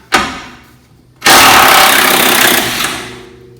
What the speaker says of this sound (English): just using the gun to make quick work of these bolts